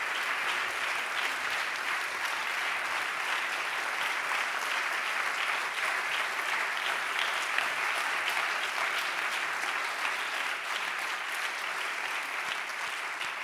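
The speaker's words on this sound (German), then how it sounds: "das ist Ihr Beifall und er zeigt, dass wir eine gute Wahl getroffen haben" A large audience at a medal ceremony for the Lorenz-Oken-Medaille gives sustained, even applause. The clapping stays dense and steady for over ten seconds, moderately distant, with no speech over it.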